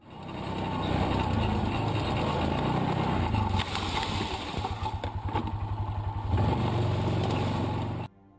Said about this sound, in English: doesn't react to the sound of the approaching engine